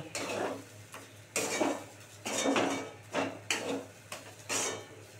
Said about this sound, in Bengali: এই যে এবার এটাকে সুন্দর করে নেড়ে নেড়ে নেড়ে নেড়ে তোমার করতে হবে